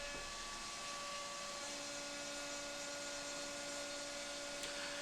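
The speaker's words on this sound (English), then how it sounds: "The job is started and the machine proceeds to groove out all the toolpaths that I created." CNC router with a V-bit spindle carving grooves into a wooden sign, a steady faint whine with a constant tonal hum throughout, running alone.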